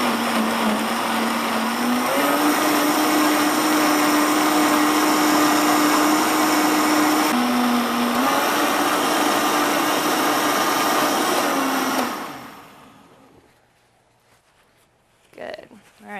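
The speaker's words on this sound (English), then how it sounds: "You just have to squeeze the stuff, put it in the blender" A countertop blender whirs loudly and steadily for about twelve seconds while mixing squeezed citrus fruit into a virgin mocktail, its pitch shifting slightly as the load changes, then it winds down to quiet with brief voices at the end.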